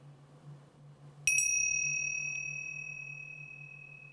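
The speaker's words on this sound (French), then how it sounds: "vous pourriez nous faire un petit gong pour euh, lancer la prochaine rubrique" A single bright metallic strike of a small gong rings out, sustaining a clear high tone that slowly fades over several seconds against a low steady hum.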